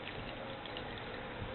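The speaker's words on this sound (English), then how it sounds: "So when I pour it in the cylinder," Liquid pouring into a measuring cylinder in a simple states-of-matter demonstration, a steady close trickling and splashing stream that runs evenly without pause.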